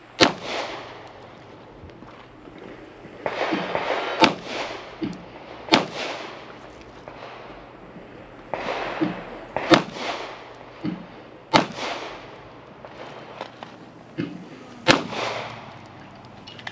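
Compact handgun shots from a Glock 26 or SIG P365XL at an outdoor pistol match, sharp reports fired in irregular clusters of two and three over a steady background, no talking.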